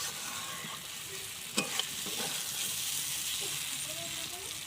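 Boiled jackfruit and potato with spices being sautéed in a pan, a steady close frying sizzle with a few clattering stirs near the middle and faint voice in the background.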